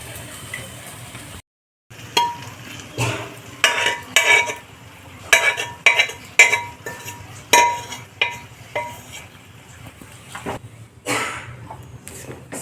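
Mustard greens for Punjabi sarson ka saag tipped into a pan of cooked masala, with repeated clinks and scrapes of a spoon against the pan and a low frying hiss underneath, loud and close, in irregular bursts.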